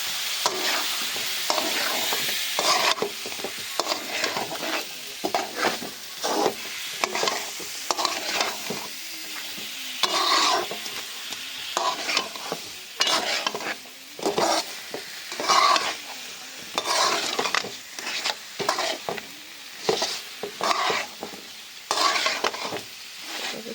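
Kola fish and a small potato stirred and frying in a pan with crab, a steady sizzle broken by repeated scraping stirs of a spoon against the pan, close and continuous with no talk.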